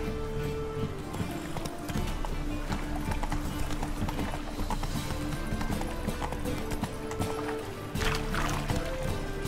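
Hoofbeats of Roach, a horse in The Witcher video game, galloping steadily in a continuous rhythmic clip-clop over a dense game soundscape, with a faint whinny and a brief voice.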